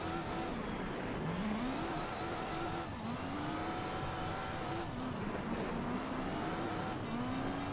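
A race car engine in Gran Turismo 4 on PS2 revs and surges through gear changes, rising and falling in pitch over a steady drone, fairly quiet and with no talk over it.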